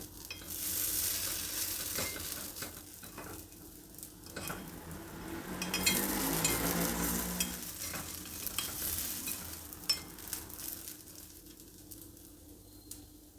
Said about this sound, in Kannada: ಕಡಿಮೆ ಫ್ಲೇಮಲ್ಲಿ ಇಟ್ಟು ಬೇಯಿಸಬೇಕು ನಿಧಾನಕ್ಕೆ ಬೇಯಬೇಕು ಪಡ್ಡುಗಳು